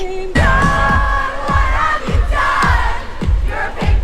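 Concert crowd roaring and cheering in unison, loud massed voices with rhythmic pulses of low thumps recurring about every half second, swelling and chanting together.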